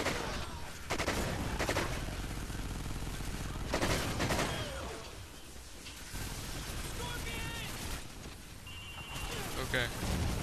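Enemy gunfire in Call of Duty Ghosts Extinction forms dense overlapping volleys and sharp shot bursts with booming impacts, continuous and fairly loud under a player talking.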